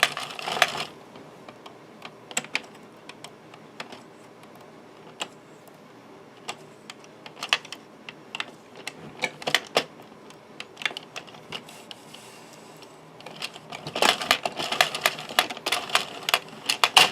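A knitting machine carriage is pushed across the bed while making a cactus project, giving bursts of clicking, rattling mechanical clatter that come and go, with a denser run of clicks near the end and no talking.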